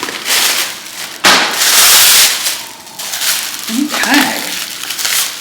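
Pre-styled synthetic lace wig packaging being opened, with bursts of loud plastic crinkling and rustling close by, a short pause, then more crackling handling; a voice speaks briefly.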